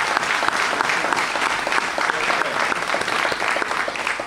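Steady, full applause from a crowd at an Israelite Board of Rabbis graduation ceremony, many hands clapping densely and evenly throughout.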